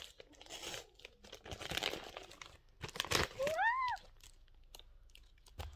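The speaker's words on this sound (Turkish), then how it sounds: "Evet açıyorum. Yırttım." A package being torn open, giving crinkling, ripping and rustling of wrapping in short bursts at close range, with a brief whining cry heard partway through.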